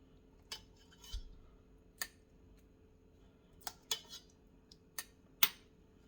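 Metal spoon clinking against a glass jar while adding brine to fermented vegetables, sparse sharp taps and scrapes at irregular intervals, quiet and close.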